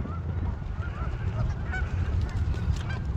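Geese honk repeatedly in short, scattered calls at a lake in Memorial Park, Colorado Springs, a few birds overlapping at a moderate distance over a soft outdoor background.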